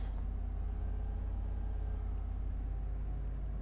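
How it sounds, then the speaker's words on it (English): GT3 race car engine in rFactor 2, a constant deep droning rumble with a steady buzzing harmonic tone, held at an even pitch and loud from start to finish. "Man, that engine note sounds good."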